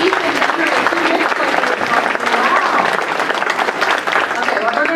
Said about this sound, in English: Give them a round of applause for each and every 2 minutes.